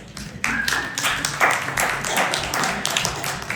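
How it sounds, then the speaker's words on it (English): Scattered clapping from a small audience at a drama class show, in honor of partner Peter, starts after a brief pause and carries on at moderate level, with a few voices mixed in. "Give him a round of applause."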